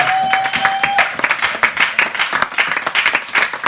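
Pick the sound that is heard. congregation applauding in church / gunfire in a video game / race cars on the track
congregation applauding in church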